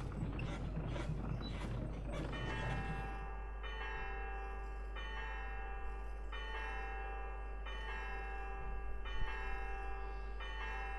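A church bell tolls in the video game Syberia, several sustained ringing strokes with long resonant decay following a brief clatter of mechanism, clear and alone with no talk.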